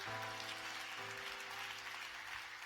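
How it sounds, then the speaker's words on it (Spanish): Congregation applauding for Christ during a church sermon, a steady wash of clapping throughout with sustained musical tones, likely organ or keyboard, underneath. "Dale ese aplauso a Cristo."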